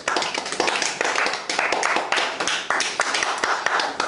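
A church congregation claps together during an evening service, with brisk, continuous hand claps filling the room for several seconds.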